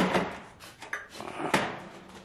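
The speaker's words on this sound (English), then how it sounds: "put your door back on." A wooden door is fitted back onto a homemade peat moss and mulch spreader, giving a few close knocks and sliding wood clunks in an uneven sequence, with no talking.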